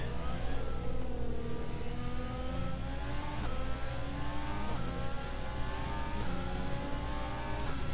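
A Formula 1 car engine in the video game F1 2020 at the Chinese Grand Prix drones steadily, revving up and down in repeated climbing pitch sweeps, loud and continuous with no talking.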